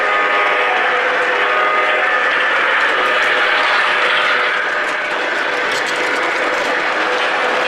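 A model railroad train runs along a layout toward the listener, its close, steady mechanical rumble and clatter continuing without a break throughout.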